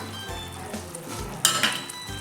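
Mushrooms with soy sauce frying in a pan while being stirred, giving a soft steady sizzle with a few brighter scraping clinks of a utensil against the pan midway through.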